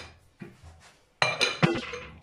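A lid set down onto a pot of freshly poured oatmeal gives a few sharp metallic clinks and clatters in quick succession, close and fairly loud after a quiet start.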